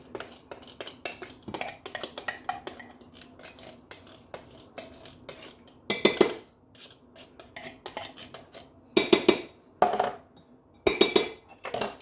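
A utensil stirs pumpkin bread batter made with pure canned pumpkin in a bowl. It gives a quiet scraping, then bursts of sharp clinks and knocks against the bowl, with no talking.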